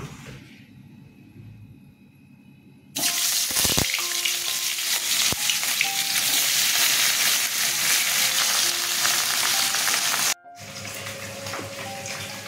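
Katla fish pieces dropped into hot oil in a wok, bursting into a loud, dense sizzle after a quieter start, the frying roar holding steady before a brief cut and then resuming.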